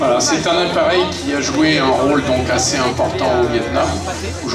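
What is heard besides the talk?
No everyday noise stands out behind the speech.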